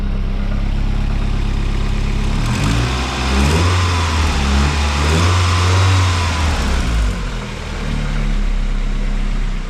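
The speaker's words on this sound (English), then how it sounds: "Well, the Astra's now running, no leaks to the front of it." A Vauxhall Astra CDX estate running with its exhaust not yet connected at the back, a loud, rough engine note that swells and drops as it revs over a steady low drone, close by and with no talk.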